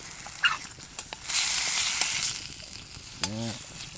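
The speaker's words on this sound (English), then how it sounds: "that's starting to sizzle pretty good" Meat sizzling in a pan over a winter campfire swells up and holds steady for a couple of seconds, with a few clicks and knocks before it and a short bird-like call near the end.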